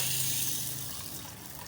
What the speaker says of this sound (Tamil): இப்போ இதில் வந்து நம்ம தண்ணி ஆட் பண்ணிக்கலாம்